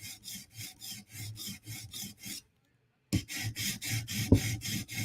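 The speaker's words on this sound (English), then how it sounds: "So to get the very tip, we're going like perpendicular straight into it because we're trying to grind away a little bit of material." Tip of a PM2 tanto knife blade drawn across a sharpening stone, rhythmic rasping strokes close up, a short pause, then a faster run of strokes.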